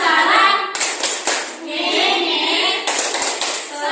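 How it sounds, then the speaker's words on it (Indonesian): A class of children claps together in short, loud patterned bursts, close by, mixed with young voices chanting along. "Tepuk tangan dulu kita semua"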